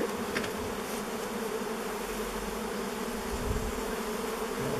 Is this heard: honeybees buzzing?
yes